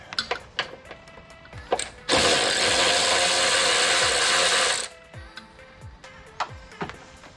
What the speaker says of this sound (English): we're gonna remove the big, bigger ground cable here